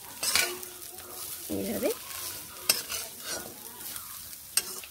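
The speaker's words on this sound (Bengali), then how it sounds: "হলুদ গুঁড়োগুলো মিশিয়ে ভালোভাবে ডাঁটাগুলোকে আর একটু নেড়ে ভেজে নিচ্ছি।" Drumsticks frying with turmeric in a pan, stirred with a spatula: scattered scrapes and clinks over a soft sizzle, with a brief spoken word partway through.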